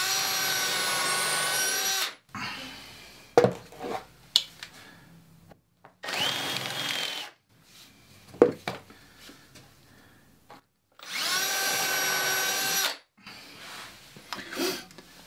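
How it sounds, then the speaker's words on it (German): A power drill bores holes for a home-built mini golf course, running in three loud, steady bursts of about two seconds each, with clattering handling noises and short pauses between them. "beim ersten Bohren komme ich hier vorne bis ans Futter."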